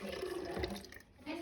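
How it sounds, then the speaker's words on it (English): A cup of milk poured into crêpe batter in a bowl, a close, fairly quiet liquid gurgle and splash lasting about a second before tapering off, with no talk. "I'm gonna add the 1 cup of milk."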